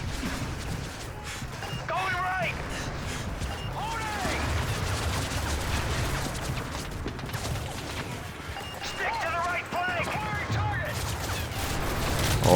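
Bursts of gunfire in the video game Call of Duty: Modern Warfare 3 rattle over a constant background din, with scattered shots and clattering effects throughout.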